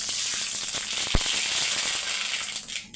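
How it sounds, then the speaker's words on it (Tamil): Mustard seeds fry in hot oil as tomato thokku begins, making a dense, steady close-up sizzle scattered with small crackles and one sharp pop midway. "இப்போ வந்து தக்காளி தொக்குக்கு கடுகு போட்டுக்கலாம்"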